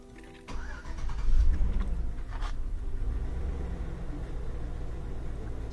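A 16-year-old GMC truck engine cranks and catches after a rough-idle repair, then settles into a steady, loud, close idle with a slight hunting rumble and no talking.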